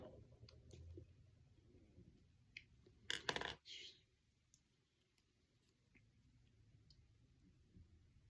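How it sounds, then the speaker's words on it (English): Pencil turning in an Ulta Beauty sharpener, quiet scattered clicks with one brief burst of grinding scrape, then faint ticks in an otherwise quiet room. "this needs to be sharpened at times. Got my cool Ulta Beauty pencil sharpener."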